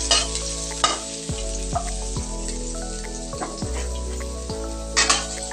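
Garlic sautéing in a pan for mung bean and sotanghon soup, a steady close sizzle broken by repeated stirring scrapes and a few louder spatters, with no talk.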